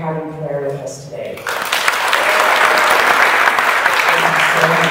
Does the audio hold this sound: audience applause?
yes